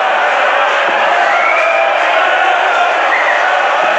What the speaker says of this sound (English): he gets a charitable round of applause and a few cheers as well